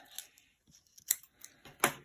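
Several crisp snips of scissors cutting paper for handmade cards, spaced irregularly with quiet gaps between, close and fairly soft.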